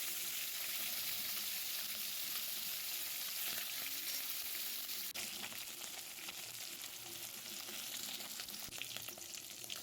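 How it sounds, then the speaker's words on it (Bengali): Four medium-sized tilapia fish pieces fry in hot oil in a kadai, giving a loud, continuous, crackling sizzle throughout, with faint spatters and no talking. "এবার আমি মাছগুলো ভেজে নেব"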